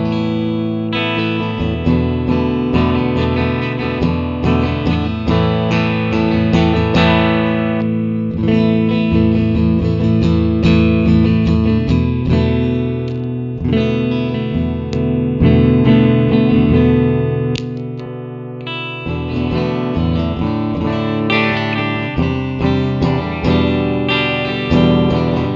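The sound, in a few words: clean electric guitar through Twin Reverb amp model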